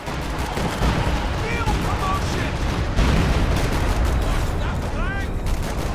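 A Stuka dive bomber fires in a war strategy game amid a dense, constant battle din of gunfire and explosions, with faint whistling tones drifting through.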